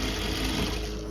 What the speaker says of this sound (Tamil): சென்டரில் ஒரு தையல் போடுறேன்